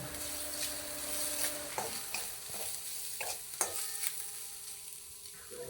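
Chili powder is stirred into oil in a hot frying pan for a fish curry, with several scraping strokes of a spoon over a constant crackling sizzle, close and with no talk.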